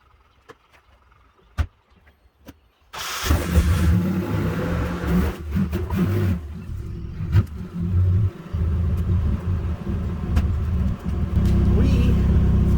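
A Nissan 240SX S13 starts after a few quiet clicks and knocks, then settles into a loud, low, rumbling idle that carries on steadily as the engine warms up.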